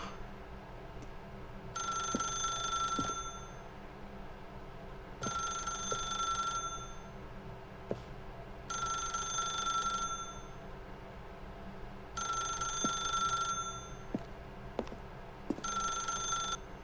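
A telephone rings in The Stanley Parable, its bright electronic trill repeating in five steady bursts about every three seconds, with brief quiet gaps between rings and a low ambient hum underneath.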